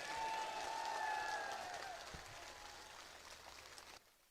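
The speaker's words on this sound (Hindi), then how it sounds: "हाथ ऊंचा करें ताली बजाओ" Crowd applause at an outdoor election rally nomination meeting, a dense steady wash of clapping that fades gradually over several seconds before cutting off.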